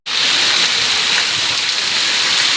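Heavy rain pours down in Gariyatar, a dense, loud, unbroken hiss that starts abruptly and holds steady throughout.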